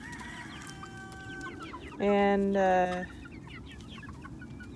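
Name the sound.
chickens clucking outside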